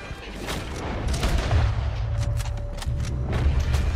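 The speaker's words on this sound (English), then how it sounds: "He's shooting." Gunfire in Red Dead Redemption 2 as a shooter fires from a tower: rapid repeated shots and booms crackling over a rumbling battle din, no talk.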